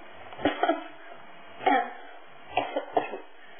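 Several harsh coughs come in clusters of two or three, close and fairly loud, separated by short quiet gaps.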